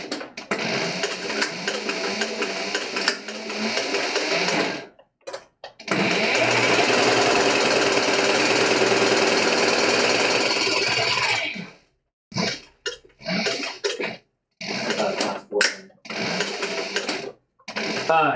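A sewing machine stitches a leather tote bag, running in one long steady burst and then in several short, stop-start runs with quiet gaps between them.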